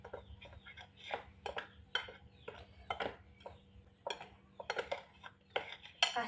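A utensil clinks and scrapes around a bowl of banana fritter batter in quick, uneven strokes, close up, with occasional sharper taps against the side.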